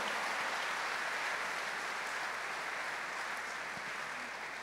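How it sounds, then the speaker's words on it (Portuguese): Congregation applauding in a church after a call to honor a priest, a steady, fairly faint wash of clapping throughout with no talk over it. "Eu queria que dêssemos uma salva de palmas para Padre Marlon"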